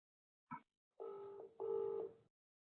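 A phone on a call gives a short blip followed by two long electronic ringing tones in succession, faint and clear against silence.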